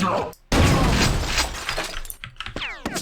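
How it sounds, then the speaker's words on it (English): Destructible glass smashing in Quake II, a loud shatter after a brief silence, followed by a long trail of falling, tinkling shards and a final ringing burst of glass near the end. "destructible glass is also useful"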